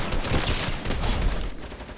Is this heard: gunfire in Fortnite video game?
yes